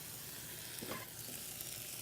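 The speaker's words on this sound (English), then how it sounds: "Let's check on our chicken." Chicken pieces fry in a hot pan, giving a steady, close hiss and crackle of sizzling oil, with a brief swell in the middle as if the food is stirred or moved. No one speaks.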